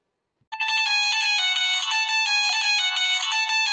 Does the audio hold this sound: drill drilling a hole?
no